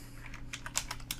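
Quick typing on a computer keyboard, a short burst of light, irregular key clicks heard up close over a faint steady hum.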